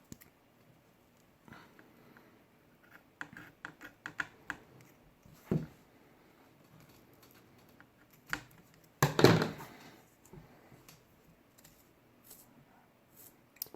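Sharp snips and short tearing clicks come from tape being cut while taping a hockey goalie stick, sparse and close against near silence, with one louder rasping burst midway.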